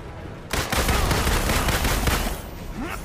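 Rapid pistol gunfire in the Marvel's Avengers video game, a dense continuous volley of close, loud shots that runs for a few seconds after a brief quiet start, then tapers off.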